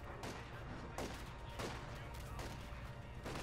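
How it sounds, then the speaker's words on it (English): Soviet units firing on an enemy-held building in Company of Heroes 2, a rapid sequence of gunshot and explosion bursts at steady intervals under a dense, continuous battle din. "Soviets opening fire at the building"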